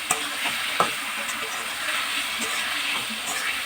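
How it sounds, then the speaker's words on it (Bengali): Ground cumin, ginger and chili pastes with salt and turmeric are stirred and fried in a pan, giving a continuous sizzle broken by a few sharp scrapes and clinks of the spoon, with no talking. "সবগুলো মশলা খুব সুন্দর করে নেড়ে চেড়ে কষিয়ে নিচ্ছি"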